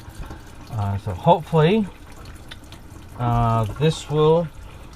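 Water runs steadily from a faucet just repaired with new gaskets for a leak, heard as a soft, even hiss under a man's brief speech.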